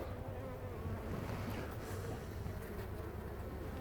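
Dense, continuous buzzing of many honeybees close by at the hive during autumn feeding, a steady droning hum with no other sounds.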